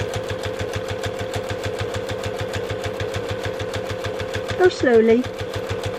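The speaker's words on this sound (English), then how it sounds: "I'm just going to top stitch right along this edge next to my zipper" A sewing machine top stitches along a zipper edge on an eyeglass case, a steady, close, rapid rhythmic whirring and ticking throughout, with a brief spoken remark near the end.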